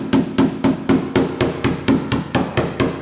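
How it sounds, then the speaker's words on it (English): A hammer strikes the solid metal door of a 1970 Chevelle in a steady run of about a dozen sharp, ringing blows, evenly spaced, loud and close, with no talk. "And I took my hammer,"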